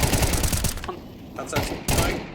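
Rapid bursts of gunfire in Counter-Strike 2, dense crackling shots in quick strings broken by short pauses, loud and close.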